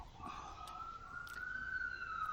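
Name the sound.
police siren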